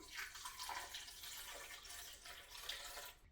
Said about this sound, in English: Add in about 1 cup of water in this.